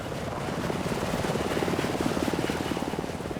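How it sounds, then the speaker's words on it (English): A rescue helicopter hovers close by, its rotor blades producing a loud, steady rhythmic thumping chop over a dense engine roar, with no voices. "the rotor blades do not generate enough lift to allow the fully equipped rescue helicopter to hover"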